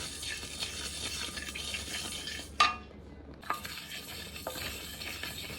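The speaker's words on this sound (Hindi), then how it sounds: "इन मसालों को भूनते हैं 2 मिनट" Cumin, poppy seeds and asafoetida roasting in a dry pan, a quiet crackling hiss with scraping stirs, a sharp utensil clink midway and a brief lull before the light frying resumes.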